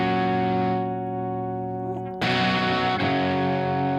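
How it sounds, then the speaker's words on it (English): An electric guitar through an overdrive pedal with the step gain turned up rings out in sustained, thick distorted chords, one fading before a loud new strum hits and sustains, with a second attack shortly after. "I mean, man, if that's not the greatest overdrive sound,"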